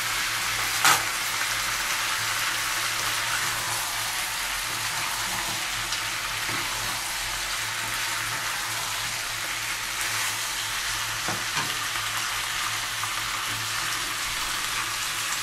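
Split green chilies fry in a pan of chicken stew with a steady, soft, even sizzle, broken by one or two brief knocks against the pan.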